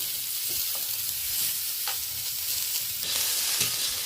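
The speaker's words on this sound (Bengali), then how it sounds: "পেঁয়াজটা অল্প তেল দিয়ে হালকা লালচে করে আমি ভেজে নিলাম" Onion frying lightly in a little oil in a pan, a steady soft sizzle with occasional scraping stirs, close and continuous with no voices.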